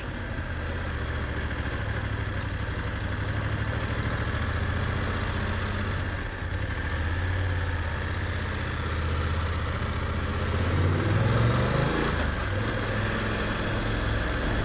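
A motorcycle riding at about 20 miles an hour, fitted with a GPS bracket, gives a continuous low engine drone with steady road rumble, with a slight rise in the engine note near the end and no speech.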